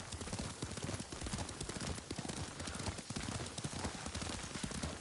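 Steady, rapid clip-clop of horse hooves at a gallop in the video game Ghost of Tsushima, continuous and fairly loud over a dense rumbling background, with no voices.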